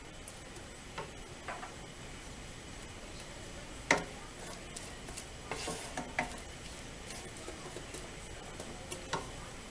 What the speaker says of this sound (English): put it on high heat, so that way you could get the garlic and the green onion top, the white part, get it cooked up a little bit